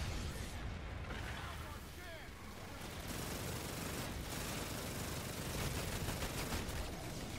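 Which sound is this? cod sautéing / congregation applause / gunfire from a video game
gunfire from a video game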